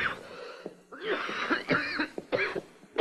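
A woman coughs repeatedly in a room, several harsh, close bursts in irregular clusters with short pauses between them.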